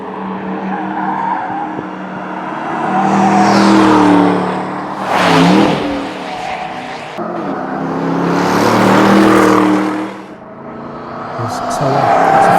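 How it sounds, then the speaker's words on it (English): A 2021 Aston Martin DBX SUV with its exhaust set to Sport Plus, loud engine revving and accelerating in two long surges, with pops and bangs, heard close alone. "The exhaust system I like to have in Sport Plus because I like that more order content from the engine."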